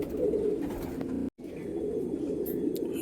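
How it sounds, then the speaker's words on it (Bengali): Golden ice pigeons cooing continuously in low, warbling tones, close by and fairly loud, with a brief gap of silence partway through. "পায়রা দেখুন এটাও ফিমেল পায়রা"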